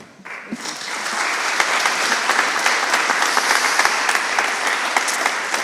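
Audience at a university debate breaking into applause, clapping swelling within the first second into a full, steady round of many hands that carries on loudly to the end.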